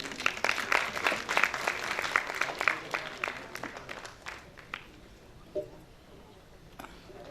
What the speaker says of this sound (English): kindly put your hands together to clap for her